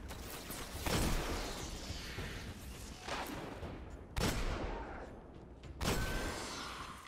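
Powerful gun fired in the video game Destiny on Venus, three or four heavy, separate booming shots a second or so apart over a constant rumble of game ambience.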